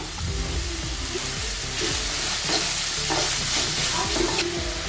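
Onions frying in a pan for chicken momo filling, a steady close sizzle with repeated scraping stirs of a spatula running throughout, no voices.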